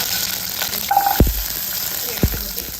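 Two or three garlic cloves sizzle in hot oil in a pan, a steady close hiss with a few soft clicks and thuds.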